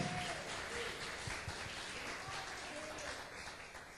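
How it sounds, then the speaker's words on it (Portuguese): A church congregation applauds during a live doctrine service. The patter of many hands is steady but faint and distant, with the murmur of voices mixed in. "Você pode dar uma salva de palmas para Jesus?"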